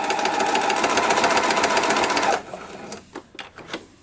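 A sewing machine runs steadily for about two seconds while stitching fabric for a grime guard, then stops abruptly, leaving a few soft clicks and handling noises.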